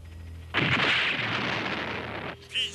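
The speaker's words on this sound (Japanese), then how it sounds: "爆破完了。" Loud demolition blast from anime film action, a sustained roaring explosion lasting about two seconds that cuts off abruptly, followed by a brief rumble.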